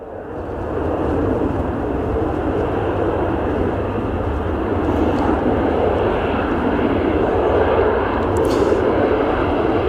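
A Jet2 airliner arriving at Edinburgh Airport, a loud, steady jet engine roar and rushing rumble that holds strong throughout, heard close at hand with no talk over it.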